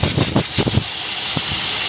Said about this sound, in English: this port right here is leaking.